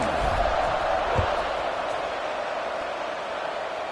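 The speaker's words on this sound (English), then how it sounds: "this crowd is buzzing after that last score" A football stadium crowd at a Nebraska versus Clemson game buzzes steadily after a score, a dense, distant roar that holds level throughout.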